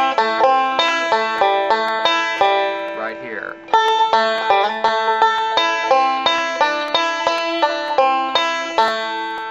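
A three-finger style banjo picks Cluck Old Hen with a fifth-to-third roll pattern, bright plucked notes ringing in a quick steady rhythm with a short slide midway.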